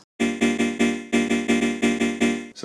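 Sampled vocal chords played in a Logic sampler with compression, EQ and stereo imaging, heard as about ten loud sustained chord stabs in a steady rhythm, each swelling then fading, with no talk.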